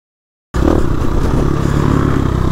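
An enduro dirt bike engine snaps on abruptly and holds a loud, close, rough drone with a rapid pulsing beat while climbing slippery hills on a worn rear tire.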